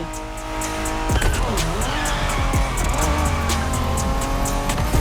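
A Honda NSX sports car engine in The Crew Motorfest revs hard and steadily while tires squeal and skid, a continuous loud racing roar with shifting pitch and no talking.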